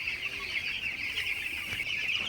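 Broiler chicks in a poultry shed give a steady, continuous chorus of high chirping and peeping, close and fairly loud, with no pauses across the short stretch and no talking.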